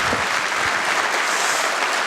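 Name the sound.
rally crowd applause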